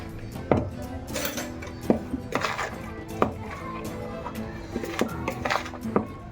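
Chopped green coriander is stirred into a cauliflower filling for paratha in a home kitchen. A spoon gives repeated close clinks and scrapes against the bowl at an uneven pace, with a low background murmur.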